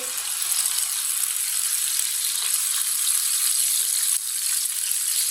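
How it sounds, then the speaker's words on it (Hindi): Potato chip sticks fry in hot oil in a kadai, producing a loud, steady, continuous sizzle with one brief dip partway through and no talking. "ऑयल हमारा अच्छी तरह गर्म हो चुका है। इसी तरह एक एक स्टिक लेंगे, इसमें रख लेंगे, डाल लेंगे।"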